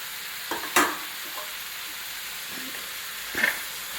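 Sautéed brinjal is added to a frying pan and stirred, giving a soft steady sizzle broken by a few sharp scraping and clinking knocks of the spoon against the pan.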